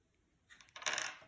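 A single brown die is rolled in a board game, a short clatter of hard taps and rattles close by that builds into a brief tumble and settles within about a second.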